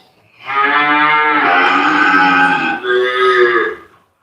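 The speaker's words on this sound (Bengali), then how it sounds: "আমার আরেকটা প্রিয় গরু আছে" A cow moos loudly and close by, one long drawn-out low call with a short break before it trails off.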